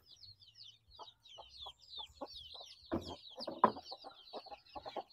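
Basilan chickens cluck in short repeated bursts near and moderately loud, with high chick peeping running over them throughout.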